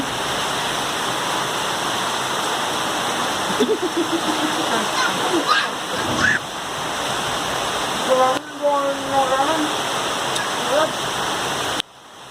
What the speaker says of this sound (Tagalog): Kasi naulan ngayon.